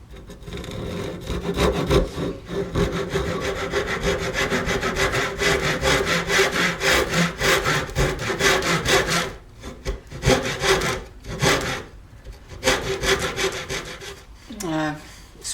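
A Japanese pull saw cuts through a wooden workpiece mounted on a lathe, giving steady, close rasping strokes for most of the stretch, then pausing and resuming in shorter bursts; a brief voice surfaces at the very end.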